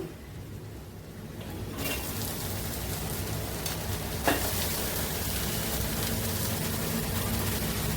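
Onions go into hot oil for a simple sambar, and a steady broadband sizzle rises sharply about two seconds in, then holds loud and even with a brief crackle spike midway, no talking.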